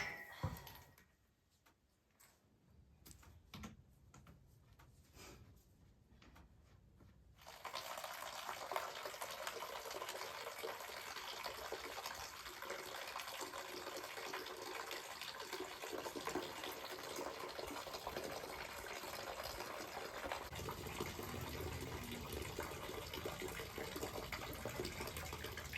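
Water runs from a tap into a container in a barn during morning chores, beginning with faint rustling and clatter before a steady, loud filling rush takes over for most of the clip.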